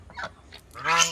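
A goose at a zoo honks and squawks while being fed, a few short nasal calls ending in one louder, brassy honk, close by.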